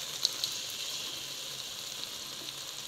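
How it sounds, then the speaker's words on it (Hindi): Yogurt hitting a hot pan while cooking chicken curry, a steady soft sizzle and frying hiss with a few small pops, close and fairly quiet, no talking. "अभी हम दही को डाल लेंगे"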